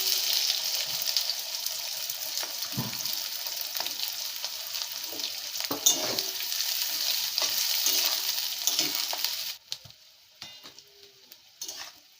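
Whole onions sizzle in hot oil in a pan, a steady crackling hiss with occasional scrapes and clinks of stirring, close up, before the frying quiets near the end.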